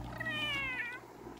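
A cat in The Sims 3 video game gives a single drawn-out, rising-then-falling meow, clear and close over a quiet game background hum.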